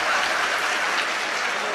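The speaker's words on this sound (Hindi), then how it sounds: "आप अपने लिए एक बार जोरदार ताली बजाएं।" A crowd at a mushaira poetry gathering claps hard together, a thick, even burst of applause filling the hall from start to finish, with faint voices mixed in.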